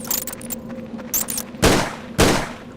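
Two loud gunshots ring out about half a second apart while shooting a bat in Tomb Raider: The Angel of Darkness, each a sharp crack with a short decay, following some lighter clicking game sounds.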